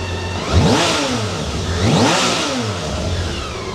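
A BMW K 1600 GT six-cylinder motorcycle engine revs up twice in rising sweeps after a cold start, close and loud, easing back to a steady rumble between throttle blips.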